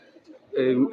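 At a pigeon market in Saruliya, a short, low pigeon coo rises after a moment of quiet murmur, close and soft, lasting under a second.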